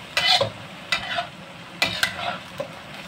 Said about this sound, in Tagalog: Ang panghuling niluluto namin ay kulichay